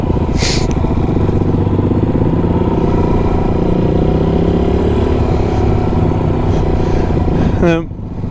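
A motorcycle engine drones loud and close at steady revs while riding near the Wynoochee Dam, then the pitch drops sharply near the end as the clutch is pulled to shift up a gear.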